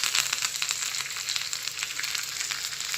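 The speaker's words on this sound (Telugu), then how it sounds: "ఫస్ట్ ఆయిల్ వేడైన తర్వాత కొంచెం ఆవాలు, 1 ఎండుమిరపకాయ, కొంచెం కరివేపాకు," Mustard seeds, a dried red chili and curry leaves fry in hot oil in a kadai for a tempering, giving a steady, close, dense crackling sizzle with fine popping throughout and no talk.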